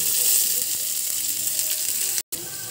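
Onions sizzle in hot oil in a pan for veg chapati rolls, a dense, steady crackling hiss that carries on unbroken until a brief cutout near the end.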